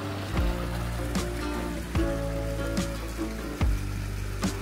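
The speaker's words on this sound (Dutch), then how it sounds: "Een stromend beekje." A small stream flows beside a water wheel under a bridge near a campsite in Denmark, a steady gurgling rush with periodic splashing thumps about every second and a half.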